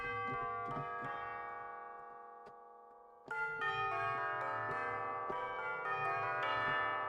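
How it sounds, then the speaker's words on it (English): Church bells ring out in a rich, layered peal, tones overlapping and decaying, with a brief lull before another loud round of strikes. "if you're doing church bell peals, that is a whole note scale"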